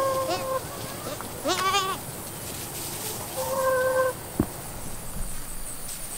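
Goats bleat at a farm, several separate calls from nearby at moderate level, with a short quavering call in between and soft background noise.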